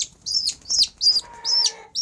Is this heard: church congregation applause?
no